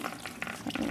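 Water splashes and patters as it is poured over soaked beans sitting in a strainer, a short, close burst of running liquid.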